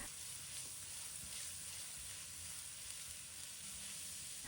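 Grated ginger stir-fries in hot oil in a wok, a faint, steady sizzling hiss heard alone over a few seconds.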